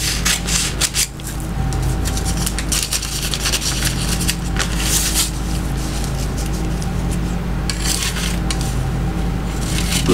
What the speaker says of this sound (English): I'm going to cut here like this. Then I'm going to cut around here back to the top.